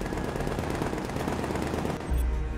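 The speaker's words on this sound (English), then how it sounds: "why do I hear a gunfire?" Rapid bursts of gunfire in the video game Batman: Arkham Knight rattle continuously, dense and fairly loud, with a heavier thump near the end.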